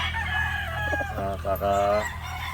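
A 5-month-old Boston Sweater gamefowl rooster lets out a short crow close by, with rough clucking sounds under it.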